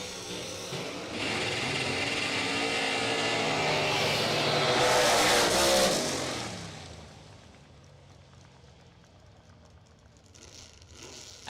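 Drag racing cars at a bracket racing World Series event roar loudly past the finish line for several seconds, then the engine noise fades into distant crowd and track ambience.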